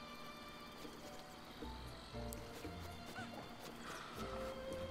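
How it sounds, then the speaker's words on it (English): Horse-like whinnying and hoof clip-clop from a donkey in the video game The Legend of Zelda: Breath of the Wild, repeated calls and steps over game ambience and background music. "Look, a donkey."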